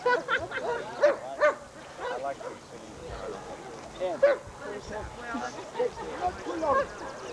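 A dog barks and yips in short repeated bursts, fairly close, mixed in with people talking over it throughout.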